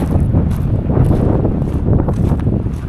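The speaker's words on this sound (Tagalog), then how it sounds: "Mahangin pa rin. Amihan na talaga mga kalaki." Strong northeast monsoon wind in a mangrove area, a loud continuous low roar buffeting the microphone with rustling gusts, no voices.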